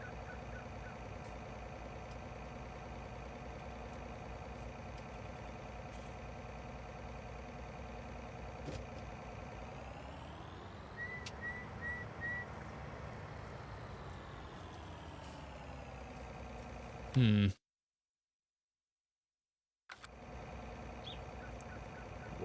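A combine harvester in Farming Simulator 19 runs with a steady droning engine hum, a brief whine and beeping as it unfolds midway, then a sudden cut to silence before the engine returns.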